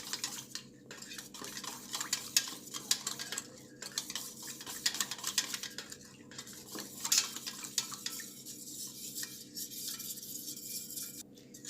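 Khandvi batter with a pinch of turmeric and hing being stirred in a bowl, a steady scraping and clinking of spoon against the vessel, close and fairly quiet, with no talk.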